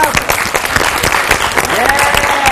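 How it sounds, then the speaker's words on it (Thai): Loud, dense applause from a studio audience at a Thai teen TV show featuring a singing and dance club, sustained and close for the whole stretch with a voice faintly under it. "ปรบมือดังๆหน่อยครับ"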